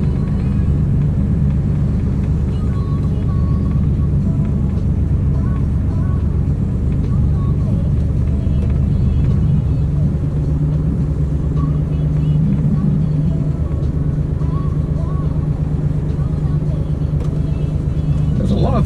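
A restored and modified Buick Grand National being driven, heard as a steady low engine and road rumble from inside the car that continues without a break.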